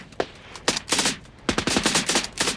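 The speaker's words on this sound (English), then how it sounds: "The Serbs pounding Kosovo's rebels with mortar and gunfire." Gunfire and mortar fire from a battle between Serb forces and rebels in Kosovo near the Albanian border, heard as loud, close bursts of rapid automatic shots with sharp cracks and echoing booms, with no voices.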